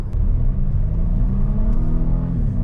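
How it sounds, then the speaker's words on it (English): A 2021 Volvo V90 Cross Country T6 engine roars steadily and loud at full throttle, a low rumbling drone holding high revs with a slight shift in pitch partway through. "it does the nice little exhaust fart during gear changes"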